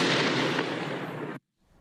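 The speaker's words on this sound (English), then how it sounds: "this is just an explosion sound downloaded from the internet" A downloaded explosion sound effect: one loud, broadband blast that holds steady for over a second, then cuts off abruptly into near silence with a faint tail.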